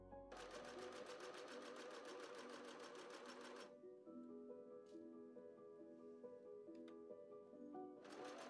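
A sewing machine runs fast, stitching two fabric layers of a dress made from an old duvet cover. A steady rapid whir of needle strokes stops, a faint hum and soft clicks follow, then the stitching starts again.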